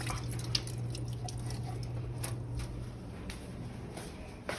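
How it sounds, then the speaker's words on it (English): Water from canned green beans draining off in a kitchen, a steady trickle with scattered drips over a low hum, no talking. "So again, dump the water out."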